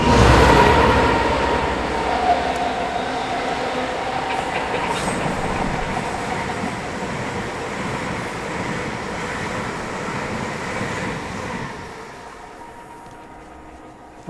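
A Voyager passenger train rushing past on the East Coast Main Line, a steady broad roar with rail rumble and clatter that holds for several seconds before fading toward the end.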